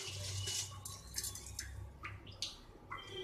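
Water pours onto uncooked rice in the pot of an electric rice cooker: a steady, faint splashing wash with a few brighter bursts, heard alone without any talk.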